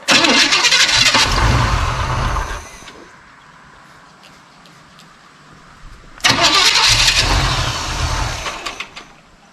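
A small-block Chevy 350 engine cranks and fires up loudly twice, each start bursting into a rough rev before cutting back, with a quieter pause between attempts.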